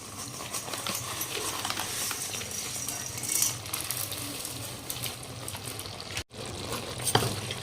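Vermicelli (shangi) stirred into a boiling jaggery mixture in a pan over a low gas flame, giving a steady close wet scraping and bubbling texture with occasional utensil clinks and no speech.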